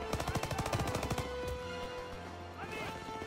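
Rapid bursts of gunfire from a WW2 campaign video game in the Death Factory mission, a fast string of loud shots in the first second and a half, then scattered echoing shots and clatter fading out.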